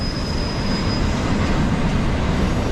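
A Canadian Pacific intermodal freight train passes close by, its loud, steady broadband rumble and rail roar filling the scene, with a brief thin wheel squeal at the start.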